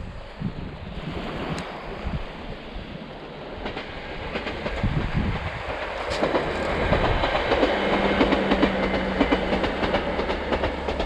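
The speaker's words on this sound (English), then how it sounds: "And here comes another train, look." A train passes by Nethertown beach in Cumbria with a steady rolling roar and faint rhythmic clatter, growing louder toward the end; no horn, no voices.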